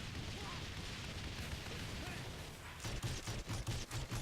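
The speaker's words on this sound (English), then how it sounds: "Oh my god, this gun is like insane." Rapid gunfire from a weapon in Saints Row The Third fills the second half as a string of sharp, regular shots over a dense, busy game soundscape, loud and close.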